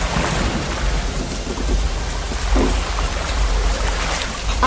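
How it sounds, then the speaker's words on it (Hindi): Heavy rain pours steadily while low rumbles of thunder roll underneath, with no voices. "सिर्फ बिजली कड़कने की आवाजें आ रही हैं।"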